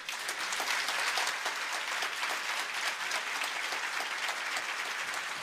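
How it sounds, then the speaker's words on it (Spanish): A church audience giving strong applause, a steady, dense clapping of many hands sustained throughout at even loudness, with no voices standing out. "Pues ahora pido un fuerte aplauso para ellos."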